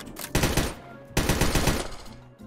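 Machine gun fire in a Minecraft Bedwars match using military weapons: two loud close bursts of rapid automatic shots, each lasting about half a second, separated by a brief lull.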